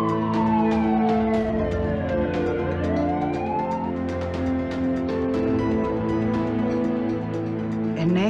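Wailing emergency siren from an ambulance carrying a child, rising and falling in long sweeping tones that stay loud and steady throughout, with no voices.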